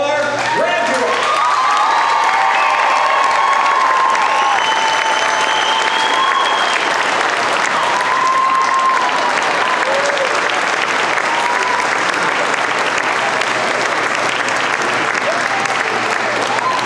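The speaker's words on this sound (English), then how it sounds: "give yourself a big cheer because you are graduates" Graduates at a 2014 DATC graduation ceremony break into loud, sustained applause and cheering, a dense wash of clapping with whoops and shouts rising above it, filling a large hall for the whole stretch.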